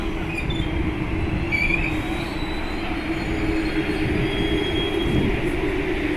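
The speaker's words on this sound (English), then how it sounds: "There's a train heading to Alewife." Red Line subway train at Savin Hill station, heard from the platform: a continuous loud rumble with a high wheel squeal running across the clip, no talk.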